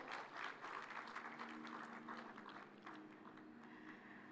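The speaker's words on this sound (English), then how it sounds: "please, a round of applause for moderator" A conference audience in a large main hall claps for a moderator coming on stage. The applause is steady and continuous but distant and faint, with a sustained tone underneath.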